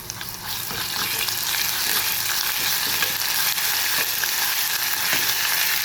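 Ginger garlic paste frying in oil in a pan while being stirred, a loud continuous sizzle with faint scraping of the spoon.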